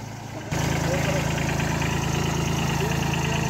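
A Kubota A211N tractor idles nearby during sugarcane spraying in a field. After a brief quieter start, its steady, throbbing engine rumble sets in and holds evenly throughout.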